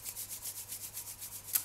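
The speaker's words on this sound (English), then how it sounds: "So you rub your hands and you can just hold it there for a bit" Hands rub briskly together to warm a sandy blonde synthetic wig's fibres, about a dozen even back-and-forth swishes in steady rhythm, close and soft.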